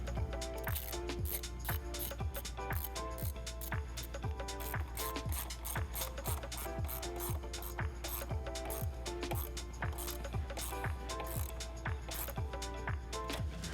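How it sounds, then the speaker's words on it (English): A ratchet fitted with an 8mm socket tightens a hose clamp on a cold air intake at the throttle body of a 2018–2022 Ford F-150, giving a steady run of close, crisp pawl clicks in an even rhythm for the whole stretch, with no talking. "that new clamp's going to be an 8mm socket instead of a 7. Get that tightened down"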